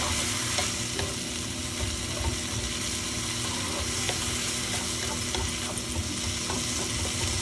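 Broccoli rabe and mixed lentils fry in a pan over high heat, giving a dense, steady sizzle with light stirring scrapes throughout, close up and with no speech.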